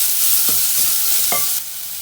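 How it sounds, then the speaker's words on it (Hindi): Cabbage frying in a pan for chicken soup, a steady broadband sizzle with a few brief stirring scrapes, close and moderately loud, no voices. "साथ ही ये बंद गोभी डाल देंगे। और इसे 1 से 2 मिनट के लिए फ्राई करेंगे।"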